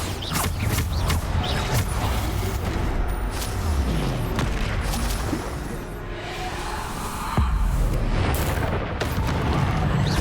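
Bombardo spells cast in Hogwarts Legacy, producing repeated booming blasts with creaking, crackling debris and sharp transients scattered across the stretch, amid other combat effects.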